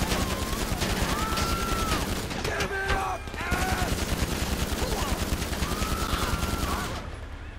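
Sustained rapid gunfire in GTA Online, a dense string of automatic shots fired from inside an armored personnel vehicle, continuous and loud throughout, with brief whistling tones and a short lull midway.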